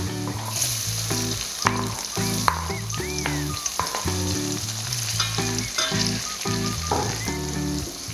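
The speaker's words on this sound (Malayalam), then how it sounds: "ഇനി പച്ചമുളക് എണ്ണയിലൊന്ന് നന്നായിട്ട് വാടിക്കോട്ടെ" Onion, ginger, green chilli and garlic fry in hot oil for a mud crab curry, giving a steady, close sizzle that runs throughout, with tonal music playing underneath.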